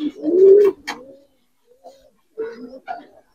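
Giribaz pigeons coo up close in soft, low, throaty bursts: one longer rolling coo first, then shorter broken coos after a brief pause.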